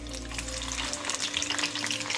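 Two cardamom pods and three cloves frying in hot oil, a dense, bright crackling sizzle that grows busier and more spattering after the first second, with no speech.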